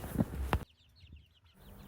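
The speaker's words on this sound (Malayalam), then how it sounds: "ഈ കാണുന്ന കോഴിക്കുട്ടികൾ ഒരു മാസം പ്രായമായ കോഴിക്കുട്ടികളാണ്" Chickens cluck in a couple of loud bursts, then a run of soft, high cheeping chirps from month-old chicks continues quietly.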